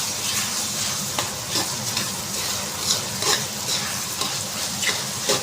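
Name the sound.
sautéing spaghetti sauce ingredients in pan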